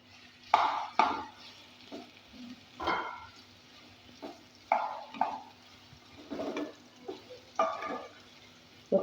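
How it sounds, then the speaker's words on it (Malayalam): Ripe banana sautéed in ghee in a pan: intermittent scraping stirs and soft sizzling bursts come in irregular clusters, close and fairly quiet, with a faint low hum between strokes and no speech. "നെയ്യ് ഒഴിച്ച് കൊടുക്കാം. ഇതൊന്ന് നല്ലോണം വാട്ടിയെടുക്കാം."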